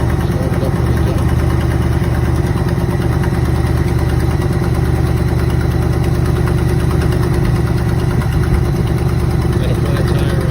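A 2002 Ford F-150 pickup at a city vehicle auction, jump-started and left idling, its engine a steady, loud, close rumble with an even throb that runs unbroken from start to finish.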